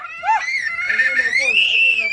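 A child lets out a high, sustained wailing scream at a family gathering in The Gambia, rising and wavering over about two seconds close by, with voices in the background.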